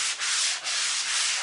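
Sandpaper scrubs over paint on a fabric chair in steady back-and-forth strokes, a close, hissy rasp with short dips between passes and no talking.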